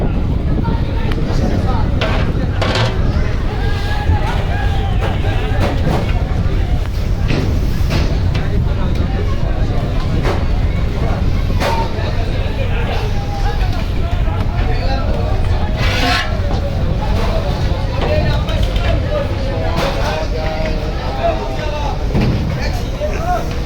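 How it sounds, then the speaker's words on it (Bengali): Passenger launches pulling away together from the Barisal river ghat in the rain give a steady low engine drone and rumble, with wind buffeting the microphone and someone talking over it throughout. "বরিশাল ঘাট থেকে একই সঙ্গে 3টি লঞ্চ ছেড়ে যাচ্ছে ঢাকার উদ্দেশ্যে"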